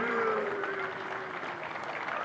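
Applause from a cricket crowd at a Derbyshire Falcons versus Leicestershire Foxes match, a steady wash of distant clapping that holds even across the whole moment.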